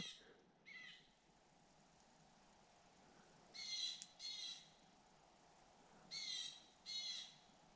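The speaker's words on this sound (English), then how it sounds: "there's a really cool bird" A wild bird, sounding like an owl, calls in a night forest near a spruce-bough shelter, giving paired harsh squawking calls at moderate distance, repeated twice after an earlier faint pair, over quiet background.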